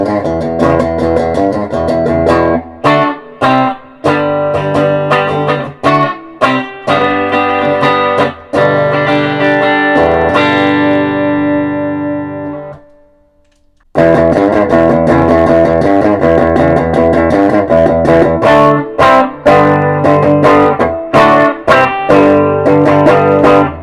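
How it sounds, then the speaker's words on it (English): A PRS Santana SE electric guitar played through an amp with only light spring reverb, loud and close. Strummed chords and picked notes ring out, then one sustained chord decays into a brief silence before playing resumes. "All that has is just a little bit of reverb, a little spring reverb set on the amp."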